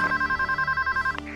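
Telephone ringing in the video game Scarface: The World Is Yours, a loud steady electronic trilling ring pulsing rapidly for about a second before cutting off.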